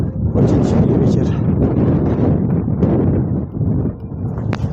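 Strong wind blasts across the microphone outside a church, a loud, continuous rushing roar that barely eases throughout.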